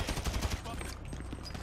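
A quick burst of rapid automatic gunfire in GTA V Story Mode, with loud, close shots crowded together in the first half second before they give way to a noisy rumble with scattered faint pops, and a voice briefly under it.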